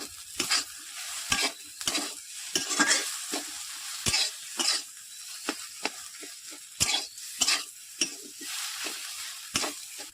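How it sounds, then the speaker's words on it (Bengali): Ground cumin and coriander with other spices are stirred and sautéed in a pan while making potato pakora: repeated scraping strokes with a soft sizzle between them, close and fairly quiet, no talking. "সব মশলাগুলো কষিয়ে নেব।"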